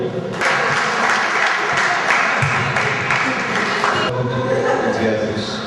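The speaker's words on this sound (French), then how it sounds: "Je vous demande de l'applaudir." An audience applauds at a Berber Spring commemoration gathering, a continuous dense round of clapping lasting several seconds, loud and close, with a slight shift in texture partway through.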